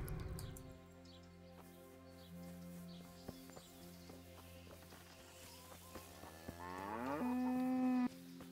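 Cattle moo in the video game Kingdom Come: Deliverance, with a long drawn-out low call at mid distance ending in a louder rising bellow over quiet ambient game sound.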